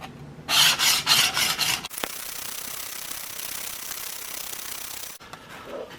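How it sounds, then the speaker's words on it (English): A knife is worked over a Tuffhead 400 grit sharpening plate, giving about five quick rasping strokes up close, followed by a steady hissing scrape that runs for a few seconds before cutting off. "I'm going to sharpen at 400 next"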